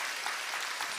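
Brief, dense applause from a church congregation at a Sunday worship service, an even continuous patter lasting about a second.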